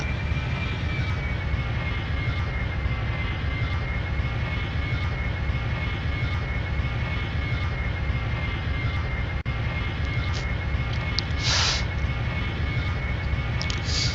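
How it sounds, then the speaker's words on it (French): Boeing 737-800 landing in a flight simulator game, with a steady, loud jet engine drone and broadband rush running unbroken throughout, no voices. "on va terminer en boucle cette vidéo avec cet atterrissage magnifique de Emre Como"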